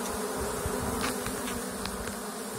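Dense, close buzzing of honeybees crowding a hive frame during a June queen search, a continuous loud drone with individual bees flicking past, no talking.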